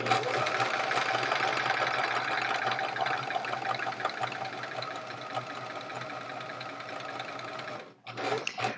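A sewing machine runs steadily while stitching rows of a quilt top with bulky fabric, a continuous close mechanical whir that stops briefly near the end and then restarts.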